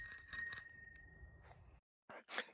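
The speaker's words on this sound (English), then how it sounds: "to let people know that you're coming in case they don't see you, you got a bell" A bicycle bell rings three quick bright dings close by, then trails off, followed by faint rustling and a soft brief noise near the end.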